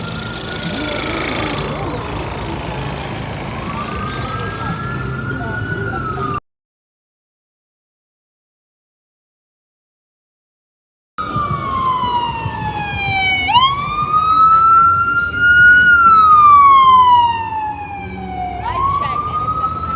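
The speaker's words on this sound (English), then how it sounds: "We have the ambulance, we have the NYPD" Ambulance and NYPD police sirens wail along 42nd Street near Fifth Avenue in Manhattan, rising and falling over city traffic noise, loud and close, with a short silent gap midway.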